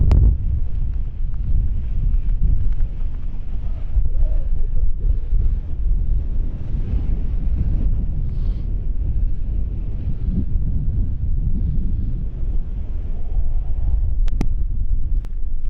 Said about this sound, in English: So I don't know what wind speed we got up here, but it's definitely blowing a hoolie.